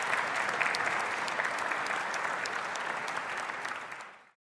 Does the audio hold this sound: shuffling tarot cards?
no